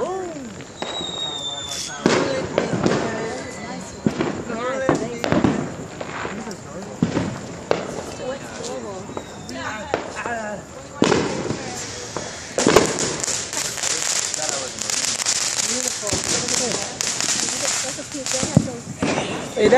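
Independence Day fireworks and firecrackers burst outdoors in a loud, irregular series of sharp bangs and crackles, with a denser barrage near the end, as people shout and talk excitedly throughout.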